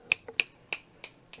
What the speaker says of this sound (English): I'm still snapping, but so you can't hear it as well when it's low